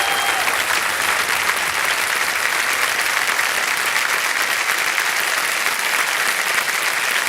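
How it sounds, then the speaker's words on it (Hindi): Studio audience on the KBC television quiz show bursts into sustained applause, a thick wash of many hands clapping evenly and loudly from start to finish with no break. "तालियां बज जाए इनके लिए।"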